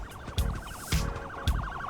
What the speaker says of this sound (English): great, the ambulance is on its way.